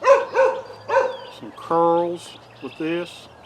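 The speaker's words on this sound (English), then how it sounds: "pardon the dog barking" Indoors, a dog barks in several sharp bursts at the start, then lets out longer howling, yowling cries, while someone talks about a black walnut-handled knife in between.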